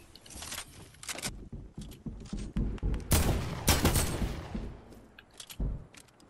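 Rapid bursts of gunfire in a battle royale video game, with clusters of sharp shots and a louder sustained volley in the middle, close and loud.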